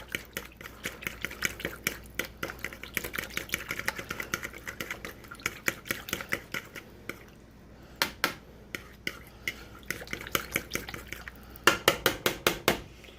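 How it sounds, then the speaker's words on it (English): A whisk clicks rapidly against a bowl while teriyaki sauce is mixed, giving bursts of quick metallic taps near the mic, pausing briefly around the middle and growing louder and sharper toward the end. "All right, so we're gonna whisk this through."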